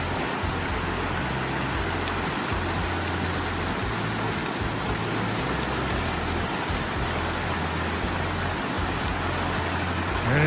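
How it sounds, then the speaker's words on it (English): Steady, even hiss of light rain falling continuously on a New Jersey hiking trail, with a low rumble underneath and no voices. "And it is raining. Not hard, but it's raining."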